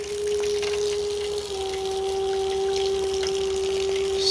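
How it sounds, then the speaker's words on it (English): Water runs steadily from the overflow valve of a greywater recycling system under test, a continuous close flow with a pump-like hum and no talking. "So soon enough we should start seeing the water flow"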